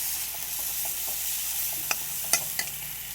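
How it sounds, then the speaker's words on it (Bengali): Spice paste for a red mutton curry being stir-fried in a pan, a steady close sizzle with a few sharp scrapes and clicks of the spatula near the end, no voices. "এবার আমি মশলাটাকে কষবো"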